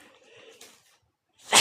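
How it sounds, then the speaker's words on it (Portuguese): A single sharp, loud sneeze bursts out at the very end, right after a few moments of someone talking quietly during a live Bible-reading session. "só Deus sabe quando que eu vou parar de espirrar"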